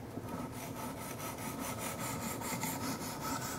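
A Kershaw Skyline knife blade drawn across a 600 grit sharpening stone, repeated gritty rubbing strokes at a steady rhythm, close and moderately quiet with no voices.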